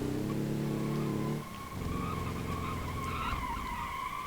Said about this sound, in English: Ooh, slid out a little bit there.